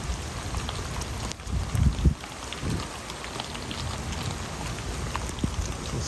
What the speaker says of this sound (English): The storm should be slacking off here a little bit,